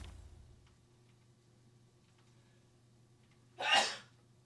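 A single sharp sneeze bursts out near the end over a quiet room with a faint steady hum, near and loud compared with the hush before it.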